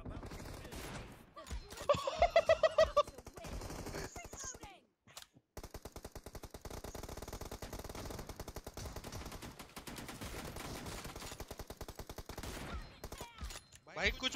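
Gunfire from an M24 sniper rifle in a BGMI team deathmatch, sharp cracks and bursts of shots in quick succession over continuous game noise, with a brief lull midway.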